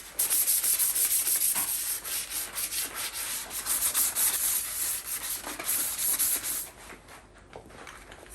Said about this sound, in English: it's my understanding that you have to sand this lightly for the paint to adhere to it